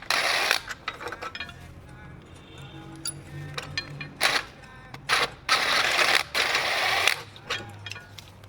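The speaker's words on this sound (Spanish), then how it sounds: "Estamos utilizando herramienta de 14 milímetros, que son los tamaños de tornillos que tiene aquí en esta parte. Entonces vamos a retirar los tornillos originales." Ratchet wrench with a 14 mm socket removing the original bolts from a truck chassis during a Rough Country suspension kit swap, bursts of clicking ratcheting and metallic clinks separated by pauses, close by.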